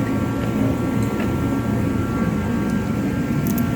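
A turbine heater with a new gas tank runs in a garage, a loud, constant roaring whoosh with a deep rumbling base and a few faint clicks on top.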